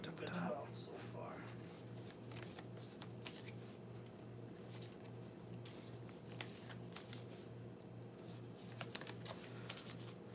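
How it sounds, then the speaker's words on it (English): An oracle card deck is shuffled by hand, with soft repeated riffling and flicking of cards close by over a low steady hum. "Just giving this one more good shuffle."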